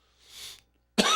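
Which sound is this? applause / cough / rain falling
cough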